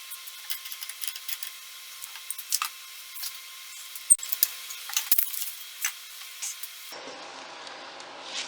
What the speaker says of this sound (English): Let's get these clamps off and see how we've done.